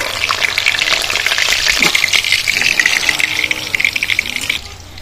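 Bata fish frying in hot oil for a village-style mustard-poppy seed dish, a steady loud hissing sizzle that runs continuously before dropping off near the end.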